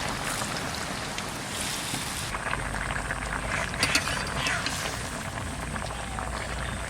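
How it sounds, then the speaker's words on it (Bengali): Broadband bubbling simmer of a fish curry in a pan as a little more water goes in, steady and close throughout with a few brief splashy bursts near the middle. "থেকে আর একটু জল দিয়ে দিচ্ছি"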